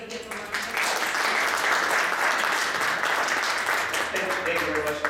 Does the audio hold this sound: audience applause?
yes